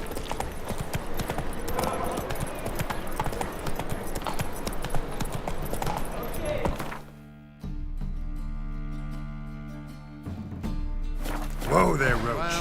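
Hooves of Roach, Geralt's horse in The Witcher 3, clop in a steady galloping rhythm, loud and close, then slow and stop, with a brief snort and game music under it.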